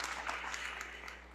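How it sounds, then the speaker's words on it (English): At a college athletics hall of fame induction ceremony in a hall, a crowd applauds in a brief, faint, steady patter of clapping. "love all the applause."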